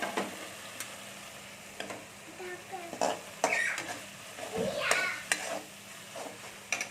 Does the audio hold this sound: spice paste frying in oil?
yes